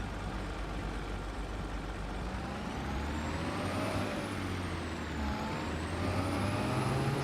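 A tractor rig in Farming Simulator 22 pulls away with a steady low engine drone and a faint rising whine. It stays even and continuous throughout, with no talking.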